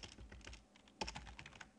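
Computer keyboard typing: a quick run of light, close key clicks with a brief pause and a second burst, no voices.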